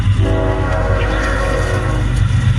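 CSX freight train rolling past with heritage unit locomotive number 391, the Spirit of Dante, trailing: a loud, steady close rumble of cars with sustained tonal horn-like lines throughout, no talk.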